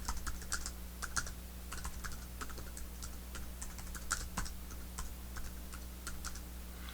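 Typing on a computer keyboard while entering a folder name, with irregular bursts of crisp key clicks over a steady low electrical hum, no voices.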